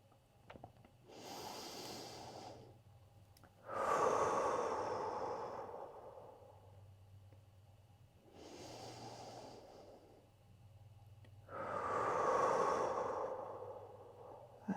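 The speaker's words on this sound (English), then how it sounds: "In through the nose, out through the mouth." During a full-body workout, a person breathes slowly in through the nose and out through the mouth, four audible breath cycles in a quiet room, each exhale louder and breathier than the inhale.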